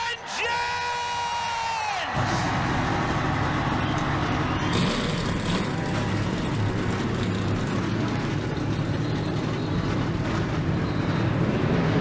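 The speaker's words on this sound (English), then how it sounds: "42 engines have come to life here at Richmond for short track racing" Forty-two stock car engines idle and rev together at Richmond short track in NASCAR Racing 2003, a dense loud roar that swells in after a brief announcer voice and fills the rest of the stretch.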